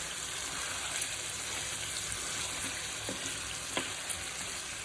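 Chicken with chana (chickpea) leaves frying in a pan gives a soft, continuous crackling sizzle, fairly quiet and even, with a couple of faint stirring taps and no voices.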